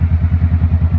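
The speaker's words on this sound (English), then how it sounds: "I do a lot of, I guess you could call it engine braking." An unmuffled 2013 Honda CBR500R engine brakes with a loud, close, rapid pulsing exhaust burble, about nine even throbbing beats in a second with a raw, crackly low-end rumble.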